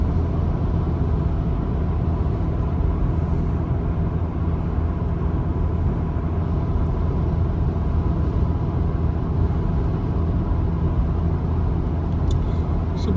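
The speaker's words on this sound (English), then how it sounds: "we've been driving a couple of hours through Belgium and we are just entering Netherlands" Steady broadband road and engine rumble from inside a car driving through Belgium toward the Netherlands, continuous and even throughout with no talking.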